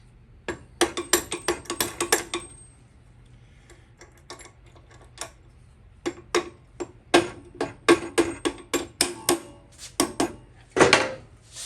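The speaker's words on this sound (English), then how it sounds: "we'll put a wrench on it" A ratchet wrench clicks in rapid bursts of ticks while working on a Honda CT70 minibike. The bursts are separated by short pauses and sound close and crisp, with no voices.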